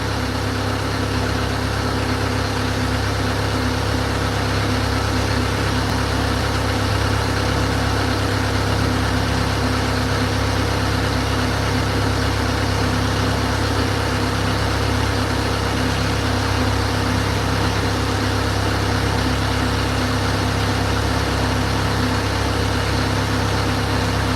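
A boat engine idles on a halibut fishing trip, a steady, unbroken low drone that holds at the same level throughout with no voices.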